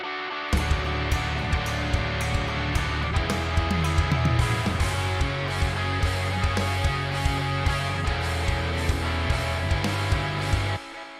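Electric guitar with a touch of overdrive and delay, no reverb, playing steady rhythmic picked notes and chords with echoing repeats for about ten seconds, loud and close, then cutting off.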